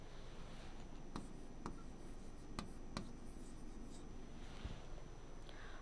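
Handwriting by pen or pencil on paper, soft scratchy strokes with a few sharp tap-like marks, quiet and close over a steady background hiss.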